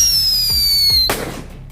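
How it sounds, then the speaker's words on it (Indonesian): A Whistling Thunder firecracker gives a rising whistle, then bursts with one loud, sharp bang that trails off into fading rumble and crackle. "Ini dia untuk petasan Wrestling Thunder pecah."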